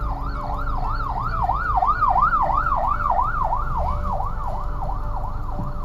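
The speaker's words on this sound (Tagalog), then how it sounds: "O ambulansya, padaanin niya o mga kapatid." An ambulance siren wails steadily in a rapid rising-and-falling pattern, loud and close, over rumbling traffic noise on a city street in Binondo, Manila.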